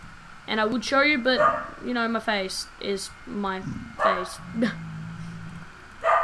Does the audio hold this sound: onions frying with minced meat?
no